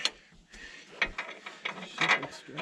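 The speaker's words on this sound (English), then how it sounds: "I might need to just come up on the strap another click." A ratchet strap is cranked tighter during a Colorado 4x4 off-road recovery of an FJ on Storm Mountain: a series of close, quick mechanical clicks and ratcheting rattles over about three seconds.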